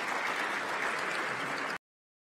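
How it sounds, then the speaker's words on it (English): An audience at a women's digital inclusion summit applauds loudly and steadily in a dense, even wash of clapping that stops abruptly after under two seconds. "If you could give them another round of applause."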